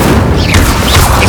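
An Incendio fire spell blasts in Hogwarts Legacy during combat, a loud, dense booming burst that fills the whole short moment.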